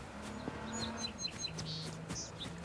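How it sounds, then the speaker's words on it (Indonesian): Faint bird chirps and tweets from a battle royale video game's ambient soundscape, short scattered calls over a low steady background hum. "Dan ada suara kicauan burung."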